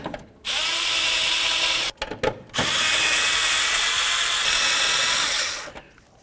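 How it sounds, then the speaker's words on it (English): A power driver spins screws in to mount a marker light assembly on a 1992-99 GMC K1500 truck: a loud, close whirring burst, a few short stuttering pulses, then a long steady run before it stops. "Let's get our screws in."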